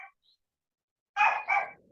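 A dog barks twice in quick succession at moderate distance, with a short faint yip before it and quiet in between.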